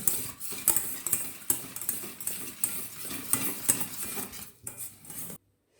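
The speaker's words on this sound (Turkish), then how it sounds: "Şimdi bunları güzelce çırpalım" Starch, sugar and egg being whisked in a bowl for a biscuit magnolia dessert, a rapid rhythmic clatter of the whisk scraping the bowl, close and busy, stopping abruptly at the end.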